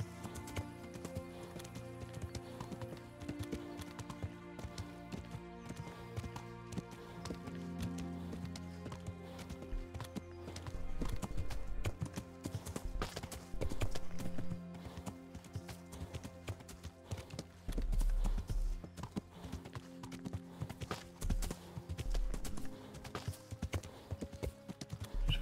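Horses trot with steady clip-clop hooves on a forest trail in the medieval video game Kingdom Come: Deliverance, a continuous rhythmic beat that grows louder midway, with occasional whinnies and music underneath.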